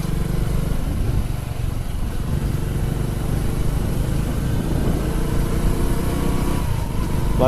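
A motorcycle engine drones steadily and loudly throughout, a continuous buzzing hum with wind rush, no voices.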